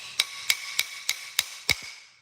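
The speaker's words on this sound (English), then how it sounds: "find my little hammer again, go tap, tap, tap" Small hammer tapping a Holley two-barrel carburetor part: six sharp metallic taps at an even, unhurried rhythm, close and clear, the last one doubled, with nothing else heard.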